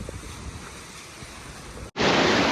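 Sea surf rolls steadily on Anjuna beach in Goa, a continuous wash of waves mixed with wind buffeting the microphone, then a sudden brief dropout followed by a much louder, close roaring rush.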